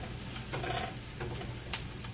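Onions frying in a pan while cooking chicken and Mexican rice, giving a soft, steady sizzle with faint stirring scrapes, heard alone.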